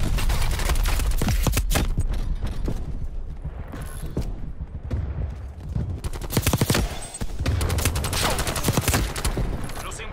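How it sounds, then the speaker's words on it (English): Dense, loud bursts of gunfire and blasts in Black Ops Cold War, with rapid clustered impacts through most of the stretch and a brief lull partway through. "Artillery"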